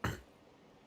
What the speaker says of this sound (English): I still got a bit of a cough.